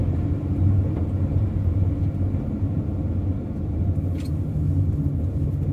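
A Mercedes-Benz Sprinter van drives slowly through snow at night in Torfhaus in the Harz, at about 30 km/h, with a steady low engine and road rumble from inside the cab.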